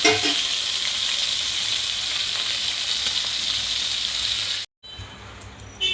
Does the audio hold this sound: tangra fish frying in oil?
yes